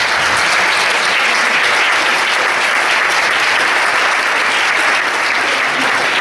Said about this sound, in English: Big round of applause for Reverend Phil.